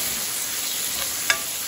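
A catfish dish sizzles in a pot as it is stirred with a ladle, giving a steady frying hiss with a single soft metal scrape near the end.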